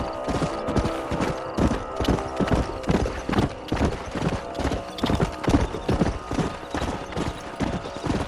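Horses trot along in the Red Dead Redemption video game, their hooves giving a steady, brisk clip-clop rhythm throughout, with an occasional whinny and faint background sounds but no speech.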